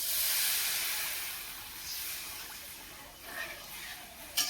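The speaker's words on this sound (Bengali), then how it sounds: "আমি কিন্তু এখন জল দিয়ে দিচ্ছি।" Water poured into frying spice paste for a village-style fish curry sends up a loud rushing hiss of steam that slowly fades, with a few faint clinks and a sharp knock at the end.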